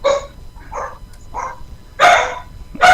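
Dogs bark in a handful of sharp, close bursts, a couple of short yips, then louder barks near the end, with no talking.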